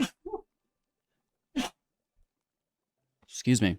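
A person sneezes once, sharply and close, among short breaths and brief spoken words in an otherwise quiet room.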